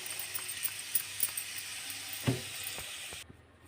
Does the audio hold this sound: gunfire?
no